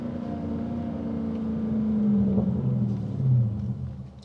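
A Dodge 392 Hellcat V8 held in first gear at low speed gives a deep, steady rumbling drone that swells gradually and peaks near the end before easing, close by with no voices.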